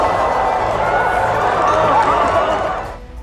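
Reporters in a huge press center covering the inter-Korean summit break into sustained applause and excited exclamations, a loud, dense crowd roar that fades out at the end.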